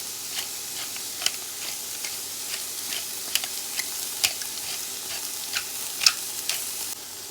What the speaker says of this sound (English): We're going to mix in our black pepper